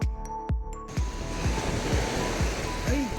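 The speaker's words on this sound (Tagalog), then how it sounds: "Dahil dito sa fishing spot namin ngayon ay medyo malakas yung alon." Strong ocean waves crash and wash at a rocky fishing spot on Tinian Island, a loud continuous surf roar with repeated low thuds through the whole stretch.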